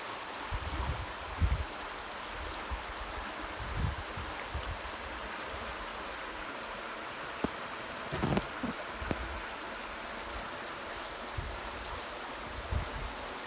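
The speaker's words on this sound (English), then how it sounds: "So peaceful, isn't it, that river?" A river flows steadily near a cabin after a hurricane, a continuous broadband rush of water with occasional low thumps and rustles mixed in, no voices.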